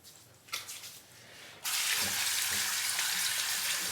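Cold tap water gushes into a sink for rinsing the face after shaving, a few close splashes first, then a loud, steady rushing flow that runs to the end.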